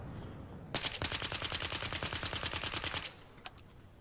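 Automatic gunfire from a weapon in the video game Battlefield Hardline, a steady rapid burst of about three seconds with evenly spaced shots, followed by a pause and one or two isolated shots.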